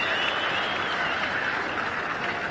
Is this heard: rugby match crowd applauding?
yes